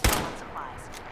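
A sniper rifle fired in the video game Fallout 4: one sharp, loud crack right at the start, followed by a fading rumbling echo.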